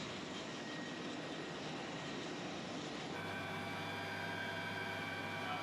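A NASA ER-2 high-altitude aircraft's jet engine hums as a steady, distant broadband roar. The tone shifts partway through into a smoother whine with a low hum underneath, and no voices are heard.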